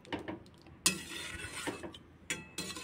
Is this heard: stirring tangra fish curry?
yes